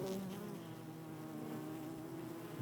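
Honey bees swarm around an urban beehive at a home, giving a steady, faint close buzzing with a few individual bees droning past.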